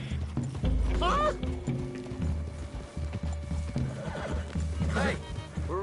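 Horses whinny loudly twice in Red Dead Redemption 2, with clopping hooves and creaking, mechanical rattles underneath, while voices speak in the background.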